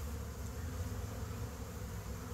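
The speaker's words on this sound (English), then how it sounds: "scouts, bees getting in there." Honey bees swarming, a dense continuous buzzing drone from many insects, loud and close without letup.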